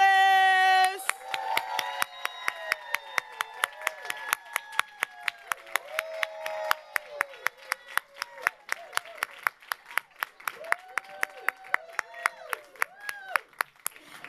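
An audience at a township women's business and leadership panel claps to welcome the panelists, a sparse run of individual claps, fairly close, under a voice speaking over the clapping.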